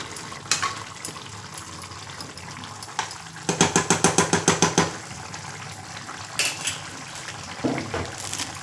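Natukodi chicken curry stirred in a village-style pot, with a spoon clattering against the metal in a quick burst of about ten scrapes and knocks, plus scattered clinks before and after under a low simmering hiss.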